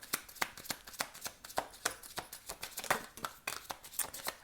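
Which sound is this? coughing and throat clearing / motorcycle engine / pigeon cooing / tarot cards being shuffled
tarot cards being shuffled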